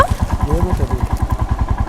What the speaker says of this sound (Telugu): బైక్ బైక్ వెళ్తుంది